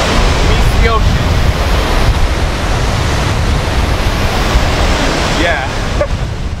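Ocean surf rolls in at Kakua Beach, Hawaii, where a river meets the sea, a loud, continuous roar of breaking waves mixed with wind buffeting the microphone.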